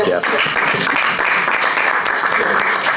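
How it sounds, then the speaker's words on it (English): A room at a state economic development directors' meeting breaks into a dense, steady round of applause for Governor Hochul, many hands clapping loudly and evenly throughout. "Governor Hochul deserves a round of applause"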